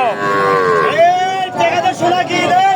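A young bull calf at a cattle market lowing loudly and close by, one long drawn-out moo followed by several shorter calls, with faint market noise behind.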